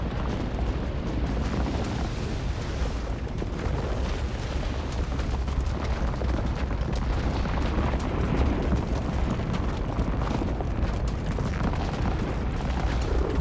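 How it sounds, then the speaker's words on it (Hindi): A volcanic eruption in Iceland sends out a continuous, heavy roaring rumble with scattered crackling bursts, steady in level and unbroken by voices. "तीसरी वीडियो ब्रेकिंग आइसलैंड की इन तस्वीरें आपके सामने, जहां फिर ज्वालामुखी विस्फोट हुआ है।"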